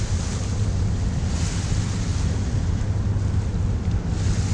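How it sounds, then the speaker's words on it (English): Continuous rushing wash of water from boat wakes in New York Harbor, heard aboard a sailboat, a steady surf-like roar mixed with wind buffeting the microphone. "wash from the boats"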